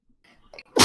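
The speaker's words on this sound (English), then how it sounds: "Sneeze." A single sharp sneeze bursts out at the very end, close and loud, after a brief moment of faint breathing and quiet mouth noises.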